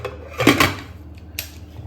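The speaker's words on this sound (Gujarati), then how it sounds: "હવે આપણે એને ઢક્કન બંધ કરી લઈશું કુકરનું।" A metal pressure cooker lid is set on and clanked shut over potatoes in water, giving a sharp metallic clatter followed by a softer second clink, close by and with no talking.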